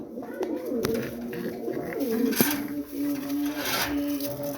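Big racing pigeons, a pair from a farm loft, give soft rolling coos nearby, with faint clicks and rustling and a quiet murmur of background voices.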